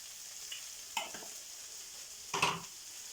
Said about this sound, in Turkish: Döküm tavada saç kavrulur